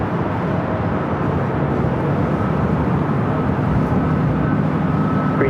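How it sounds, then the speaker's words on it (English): A Korean Air Boeing 747-8 Intercontinental arriving at LAX gives a steady, broad jet roar that stays loud and even throughout, with no voices. "Korean Air Flight 11 coming in from Seoul. Another 747-8 Intercontinental."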